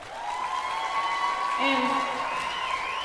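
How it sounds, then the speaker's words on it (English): An audience applauds a children's choir after a live winter concert, a steady wash of clapping running through the clip while a voice speaks over it. "Give our kids a hand again."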